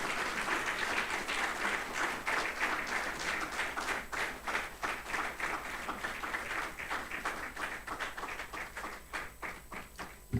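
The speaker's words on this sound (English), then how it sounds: "A round of applause for him, please." A large audience applauds to welcome a keynote speaker, Nigeria's Vice President, at a public leaders programme closing ceremony; sustained, dense clapping with crisp individual hand claps, steady and close, gradually thinning toward the end.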